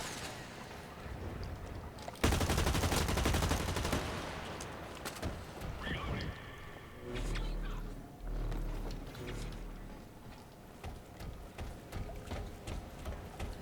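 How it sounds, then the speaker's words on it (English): Bolt-action rifle fire in the shooter game Blacklight Retribution: a burst of loud gunfire around two seconds in, followed by scattered shots, clanks and game effects in a busy mix. "That guy's going to own me unless I get close, because he's got a bolt action rifle."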